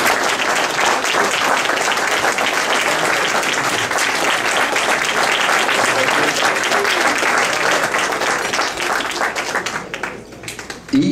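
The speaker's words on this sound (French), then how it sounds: "ça mérite une bonne main d'applaudissements pour le travail exceptionnel qu'il fait" Crowd applause at a golf tournament gathering for a foundation in Farnham, sustained loud clapping from many hands filling the room for about ten seconds before tapering off at the end.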